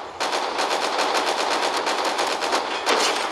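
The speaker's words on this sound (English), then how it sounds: "Nice tap firing by CrabNoMad and shoots him through the wall" Video game gunfire, rapid tap-fired shots through a wall, comes as a loud, close, fast regular train of reports that runs almost continuously, with a short pause near the end.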